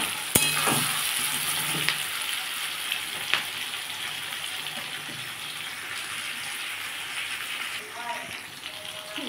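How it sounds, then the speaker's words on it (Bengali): Potatoes fry in a pan while a spatula stirs them, giving a steady broadband sizzle with occasional scraping strokes and clinks; no one speaks. "দেখুন বন্ধুরা আমার আলুটা অনেকটা ভাজা ভাজা হয়ে গেছে।"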